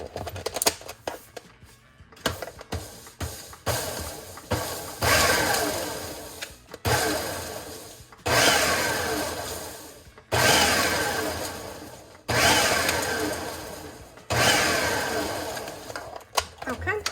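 A food processor pulses mozzarella cheese for keto pizza dough in a home kitchen, giving about six loud whirring bursts of a couple of seconds each, separated by brief pauses, with faint rattling in the gaps.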